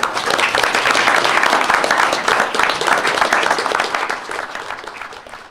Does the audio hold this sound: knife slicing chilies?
no